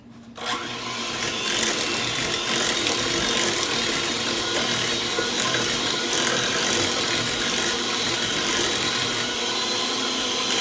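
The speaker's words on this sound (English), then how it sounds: "I'm going to cream that together real quick with the mixer" An electric mixer creams 1 2/3 cups of sugar with 1/3 cup of room-temperature butter for a banana sheet cake, a steady close whirring and rattling that starts abruptly and runs without pause.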